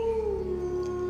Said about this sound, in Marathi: बाहेर एखादे कुत्रे भुंकत होते.